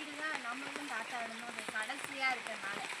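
Steady rain patters on a surface with dripping drops throughout, while a person talks over it nearby.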